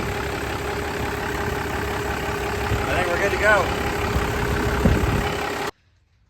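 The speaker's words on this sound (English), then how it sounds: "You can hear the engine idling up now." A rumbling 2nd-generation Cummins diesel truck engine idles steadily up close on a cold start while someone talks briefly over it; the sound cuts off abruptly near the end.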